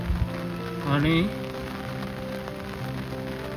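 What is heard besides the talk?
torrential monsoon rain in Konkan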